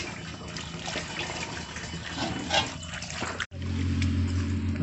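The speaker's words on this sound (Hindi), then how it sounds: "पानी डाल डाल के धोना है," Running water pours steadily over small fish being washed by hand in a village outdoor kitchen, a continuous close splashing gush that briefly cuts off and then resumes fuller and heavier.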